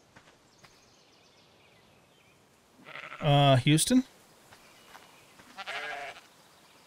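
A sheep in the video game Ark, on the Fjordur map, lets out a loud, close bleat and then a shorter, fainter one, while someone speaks briefly.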